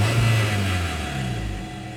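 The replacement engine in an Audi A3, freshly swapped in after the old one blew, runs with a low steady hum that rises slightly and then settles back, close by.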